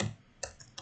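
A few quiet, crisp key presses on a computer keyboard, including the Enter key, arrive as short separate clicks in under a second, close and faint.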